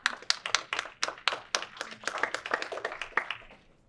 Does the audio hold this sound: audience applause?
yes